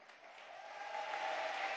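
Party delegates at the IV Congress of the PSUV applaud, a broad sustained wash of crowd clapping that swells steadily from moderate to louder across the hall.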